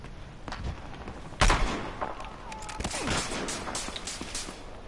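Gunfire in the Battlefield Hardline multiplayer game on PS4, scattered shots with one loud close burst and several fainter distant reports, over a low background rumble.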